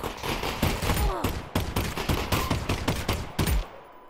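Sustained automatic gunfire in Half-Life: Alyx, a dense rattling volley of shots lasting several seconds before cutting off, loud and close.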